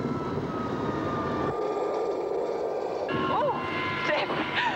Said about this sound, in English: We're going to deliberately have engine failure.